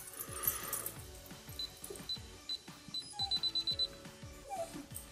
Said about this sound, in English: Got alarm that we have to take care of.